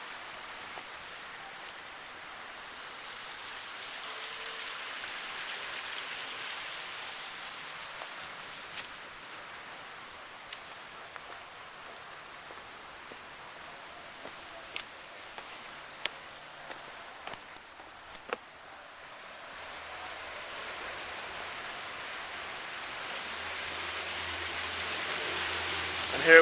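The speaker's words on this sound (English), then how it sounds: "we installed a big waterfall with all these boulders" Water running down a big landscaped boulder waterfall makes a soft, distant wash that stays steady throughout, broken by a few faint clicks and taps and a low rumble near the end.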